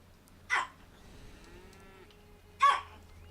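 A cow in the city-building game Ages of Cataria gives two short, bright moos about two seconds apart, fairly close over a quiet background with a faint low hum.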